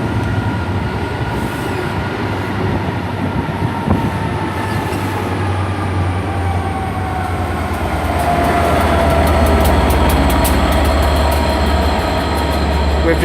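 An Arriva Trains Wales HST train with a DB freight locomotive on the rear pulls into Chester station, a steady heavy diesel rumble with rising wheel squeal and rail clatter as it nears.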